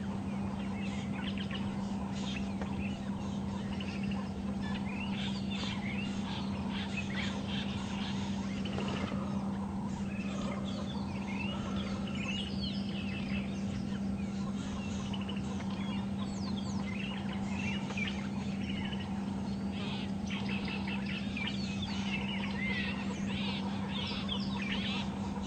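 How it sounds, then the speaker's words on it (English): Wild birds give alarm calls on a morning safari drive at Djuma Game Reserve, a chorus of clucking and chattering cries over a constant low vehicle engine hum. "Interesting that there's some birds behind us alarming."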